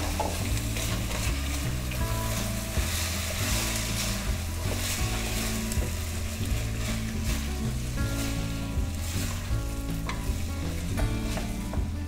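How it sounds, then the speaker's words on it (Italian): Drained potatoes tossed into a pan of sizzling guanciale for pasta e patate, a loud steady fry with stirring scrapes and clatters throughout, close and continuous, no talk. "le patate che ho scolato e vado a gettare direttamente in pentola."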